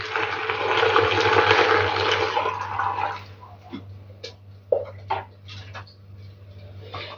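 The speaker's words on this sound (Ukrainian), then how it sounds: "І тепер ми гарячим маринадом заливаємо яблучка." Hot marinade of honey and apple pours into a container of apples, a loud sustained liquid splash for about three seconds, then quieter drips and light clinks.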